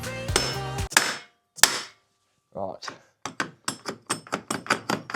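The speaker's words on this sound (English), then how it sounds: "let's give it a tap with a hammer or something" A hammer strikes a rusted part on a Land Rover Discovery with a few heavy blows, a pause, then a quick run of sharp metallic taps, close and loud. Someone says one word briefly.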